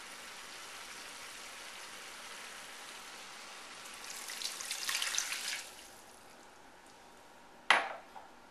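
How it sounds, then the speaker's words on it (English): Three cups of water poured into a pot of carrots and potatoes, a quiet gush of liquid rising and fading over a couple of seconds, then a sharp clatter of the pot or utensil. "And then we're going to add in our 3 cups of water."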